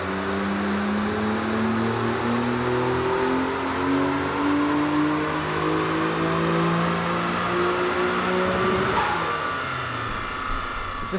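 A Nissan GT-R on a dyno, boost raised to 18 psi, roars at steady full load with sweeping engine harmonics that climb through a long pull, then cuts off abruptly near the end.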